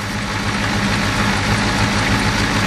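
A Ford 6.9 diesel engine runs at a steady idle, with a dense, even rumble and clatter that holds without letup from close by.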